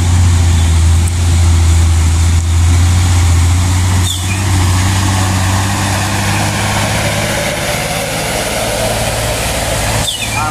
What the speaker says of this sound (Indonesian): Dan di belakangnya ada armada Hino 500 4x2.